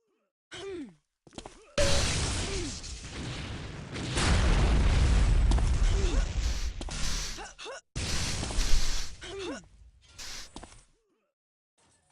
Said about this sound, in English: He hears those 3 rockets charging up, wisely moving out of the way.